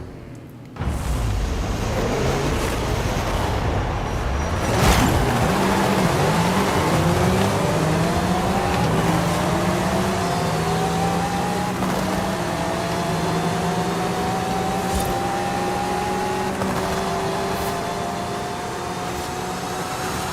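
Car engines in Forza Horizon 5 surge at a race start, one engine climbing steadily in pitch through long gear pulls with a brief shift, loud and continuous over the whole stretch with no talking.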